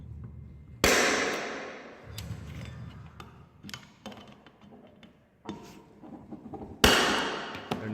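A hammer strikes a metal punch to mark metal while an overhead camera stand is built. Two sharp, loud, close blows land about six seconds apart, with quieter ticking clatter between them.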